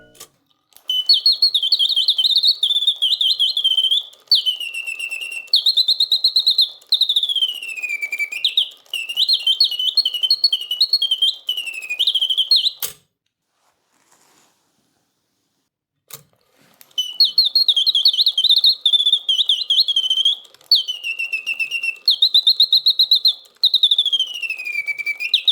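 An antique 19th-century Parisian singing bird box trills in bright, rapid warbling whistles and chirps, loud and close, in two long bursts separated by a few seconds of near silence.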